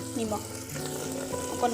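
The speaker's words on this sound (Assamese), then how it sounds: "এতিয়া এইখিনি এনেদৰে অকণমান ভাজি ল'ব লাগিব" Food frying in a pan on a gas stove, a steady soft sizzle throughout with a faint voice in the background.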